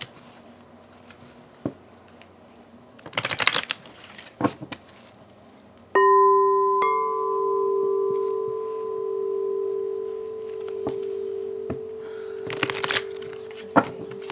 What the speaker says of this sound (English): Let's see, let's shuffle these again.